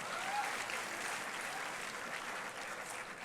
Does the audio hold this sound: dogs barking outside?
no